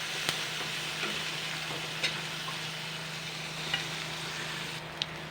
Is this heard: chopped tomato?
yes